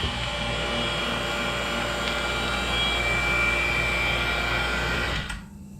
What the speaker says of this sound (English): I'm gonna fire with the vacuum pump, and hopefully this all pulls down